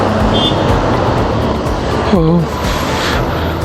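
Steady road traffic rumbles and roars around a rider near Lonere on the Mangaon–Nizampur road, with someone briefly talking over the noise.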